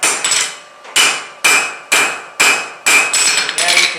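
Hammer blows on hot metal while forging square corners, seven or eight sharp ringing strikes in a steady rhythm about half a second apart, loud and close, each decaying before the next, no talk.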